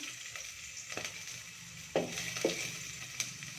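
Ginger and then garlic drop into hot oil in a pan, setting off a low sizzle that flares into sharper crackling bursts as each batch goes in.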